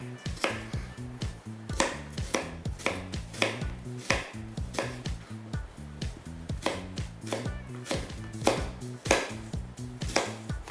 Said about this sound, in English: Now, these are onions. I'm just going to cut them over like that.